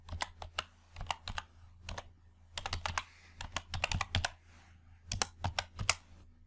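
Keys clacking on a computer keyboard while entering a subtraction formula in an Excel worksheet, delivered in quick uneven bursts of clicks with short pauses between them, close and fairly quiet.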